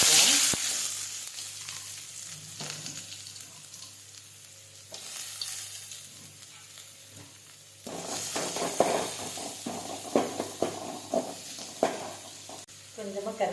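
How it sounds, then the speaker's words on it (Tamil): Onions hit hot oil with popped mustard seeds and cumin in a pan, giving a steady frying sizzle that swells after a few seconds, with spatula stirring clicks over it. "வெங்காயம் போடுறோம்"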